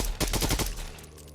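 Rapid gunfire rattles off in a short burst while zombies are shot in a video game, loud and close before it fades out.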